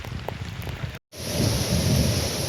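Heavy monsoon rain pours steadily over a hill fort at Kaldurg near Palghar, amid cloud and thick fog, a loud, dense wash of falling water that drops out for an instant and then returns even stronger.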